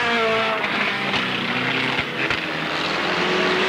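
Race cars lapping at Alwalton Raceway in 1983, a continuous loud engine drone with shifting pitch as several cars pass nearby, no voices over it.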